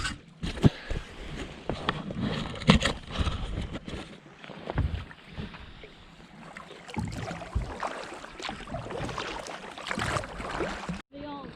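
A kayak is paddled on the sea, with repeated splashes and water swishes, light wind buffeting and a rhythm of strokes throughout.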